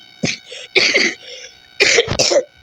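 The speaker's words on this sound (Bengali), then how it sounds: "আমার এত খুশখুশে কাশি হয়েছে না" Close, dry coughing in three harsh bursts with short pauses between, each a cluster of rough, hacking coughs, no talking.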